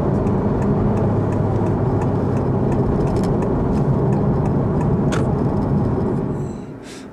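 Honda Civic with 1.5L turbo engine accelerating while merging, a steady cabin-heard engine and road drone holding level, then easing off near the end.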